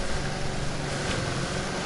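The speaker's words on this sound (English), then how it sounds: "Go driving my boat out in the ocean" A motorboat engine drones steadily out on the ocean in The Crew 2, a loud, continuous broadband roar with no breaks.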